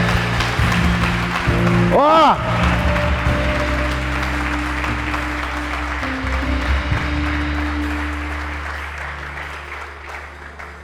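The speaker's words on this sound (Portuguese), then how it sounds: "dá um aplauso a Ele," A church congregation applauds in a loud, sustained wash of clapping, with a brief shout and music-like tones underneath, gradually thinning toward the end.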